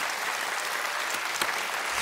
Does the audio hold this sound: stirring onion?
no